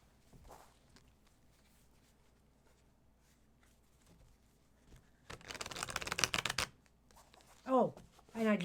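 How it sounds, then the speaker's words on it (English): Tarot cards are shuffled in a quick riffling burst of crisp flutters at close range, with a voice speaking briefly before and after. "I just gave it an extra shuffle for good measure"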